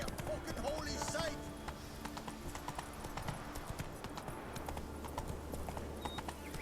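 Horse hooves clip-clop steadily in The Witcher 3, a rapid, even rhythm of light thuds running the whole time, with a brief whinny early on and a voice murmuring over it.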